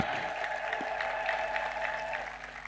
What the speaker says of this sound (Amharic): እስቲ ኢትዮጵያ ታኮራለች ብላችሁ እስቲ አጨብጭቡ።